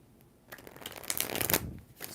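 Tarot cards being shuffled by hand, a close, brisk riffling and slapping of the deck that builds to a dense flurry before trailing off.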